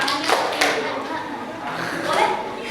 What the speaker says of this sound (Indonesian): adik-adik tepuk tangan satu kali